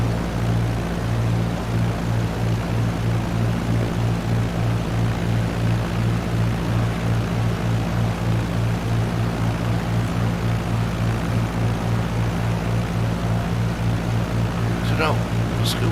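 Propeller airplane engine at idle power during a landing approach with flaps extended, a steady loud drone with a throbbing low pulse filling the cabin throughout.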